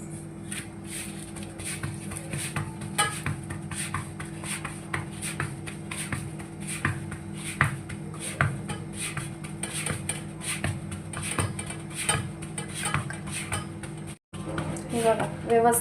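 Hands pat rice flour dough into a round bhakri, a steady, close run of soft rhythmic slaps repeating about twice a second, with a voice talking at times.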